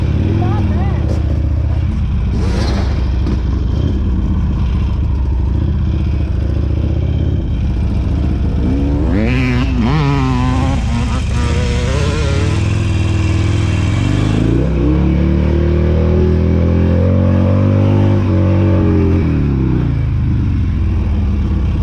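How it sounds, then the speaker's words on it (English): A Harley Sportster converted into a dirt bike rumbles and revs as it sets off for a test ride, with engine roar rising and falling, clattering, and louder revving bursts in the middle. "I'm gonna take it for a quick spin now."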